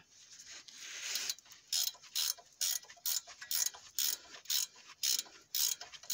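Ratchet wrench clicking in quick rhythmic bursts while loosening a suspension arm bolt on a Fiat Stilo 1.9 JTD, about a dozen close, crisp ratcheting strokes separated by short pauses, no talking.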